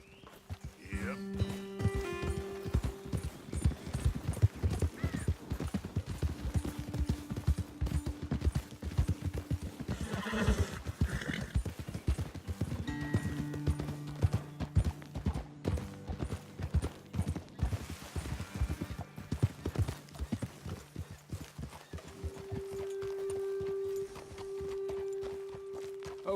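Horses clop along in the video game Red Dead Redemption 2, and a neigh is heard among the rhythmic hoofbeats. Voices and sustained musical tones run over the hoof sounds.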